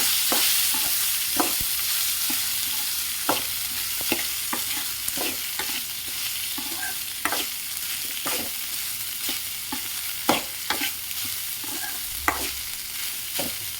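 Lemon rice being stirred in a pan: repeated scraping strokes of a spoon at an irregular pace over a soft, constant sizzle, close up with no talking.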